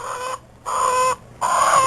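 Chickens clucking on a small rural hillside plot, three close, loud bursts of clucking separated by short pauses.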